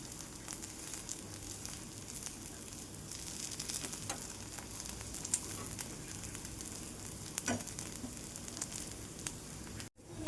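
Green moong dosa sizzling on a hot pan, a steady close crackling fry with faint stirring ticks throughout, no talking.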